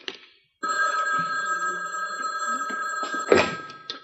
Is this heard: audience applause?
no